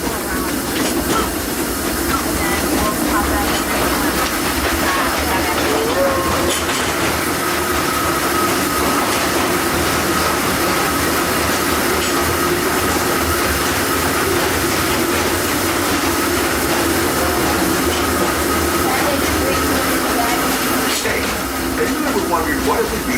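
Steady rumble and clatter of the Disneyland Railroad train rolling along the tracks at night with a hiss as it approaches a station, continuous and fairly loud throughout.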